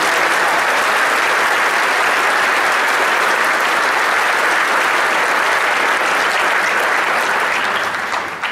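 Sustained, dense round of applause from a large crowd at a Super Bowl breakfast in Houston, steady and loud throughout before tapering slightly at the very end.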